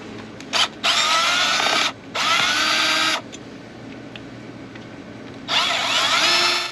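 A power drill or driver backs screws out of the bracket for an RV propane regulator, running in three loud whirring bursts with short pauses between them, close by and with no talking.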